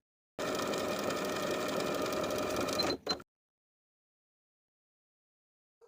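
A sewing machine runs steadily, stitching finishing stitches around a sleeve hem on a custom-fit dress, for about three seconds before stopping abruptly with a brief final burst, then silence.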